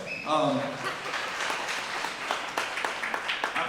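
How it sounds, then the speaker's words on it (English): An audience claps at a Republican candidates' meeting in Boyd County, a dense burst of applause that swells loud at the start and then holds steady, with a voice speaking over the crowd. "You can applaud there."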